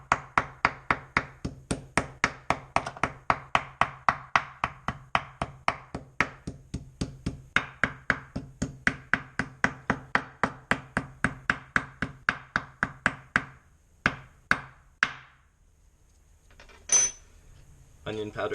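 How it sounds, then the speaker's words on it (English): A meat tenderizer pounds meat for a breakfast burrito with dozens of rapid, even thumps in a steady rhythm, close and loud, which then slow to a few scattered knocks. "Again, starting with your meat tenderizer."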